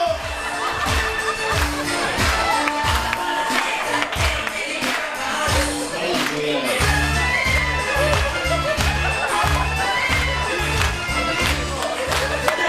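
A studio crowd claps and cheers loudly and continuously, a dense wash of applause with whoops rising over it.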